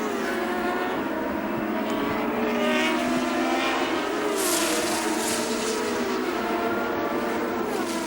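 Formula Renault 3.5 race cars lap the Oschersleben circuit in a 2005 series race, a continuous loud engine roar with rising and falling pitch as cars pass, dense and unbroken throughout.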